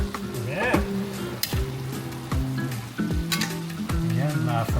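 Sliced saging banana frying in a pan for Filipino pork pochero, a close, steady sizzle with clattering stirring and utensil scrapes recurring throughout.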